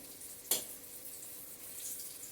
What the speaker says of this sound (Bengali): দিয়ে মুখিটাকে আগে ভেজে তুলে নিচ্ছি